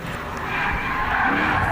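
A Mercedes SLK 55 AMG sliding on a test track, its tires skidding in one continuous, loud squeal with the engine roaring underneath.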